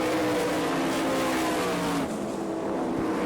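Sprint race cars in an All Star Circuit of Champions race on the Florence, Kentucky track, engines droning loudly and steadily as the field runs its final lap, with the roar easing slightly near the end.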